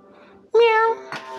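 A cat gives one clear, drawn-out meow close to the microphone, followed by a brief softer sound, with quiet background noise.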